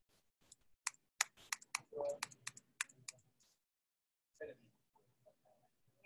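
Computer keyboard keys and mouse clicks during a coding shortcut demonstration, with a run of sharp separate clicks and taps, loud and close, then softer scattered clicks.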